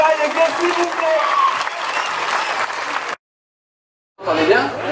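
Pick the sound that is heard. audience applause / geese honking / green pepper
audience applause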